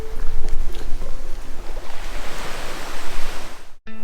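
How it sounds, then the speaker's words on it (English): Small waves lap against the shore of a lake in Sleeping Giant Provincial Park, Ontario, a close, loud wash of water with wind rushing over it, cutting off abruptly near the end. "You can just hear the small waves lapping up against the shore."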